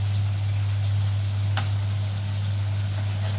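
Fish half-fried in hot oil in a pan, a steady close crackling sizzle with one sharp spatter pop partway through, under a constant low electrical hum.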